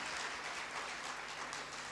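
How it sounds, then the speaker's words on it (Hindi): An audience at an anniversary celebration gives loud, sustained applause to welcome the second runner-up, a thick, continuous wash of clapping with no voices. "जोरदार तालियों से स्वागत करेंगे"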